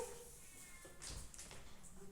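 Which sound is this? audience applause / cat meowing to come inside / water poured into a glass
cat meowing to come inside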